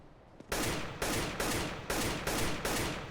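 Loud, close gunfire in the Overwatch video game, shown here at quarter speed, lands as a string of about six heavy, evenly spaced shots with no talking.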